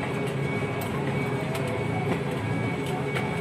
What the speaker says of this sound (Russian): мне вот нравится звук двигателя вообще, тихонько, себе спокойно подсвистывает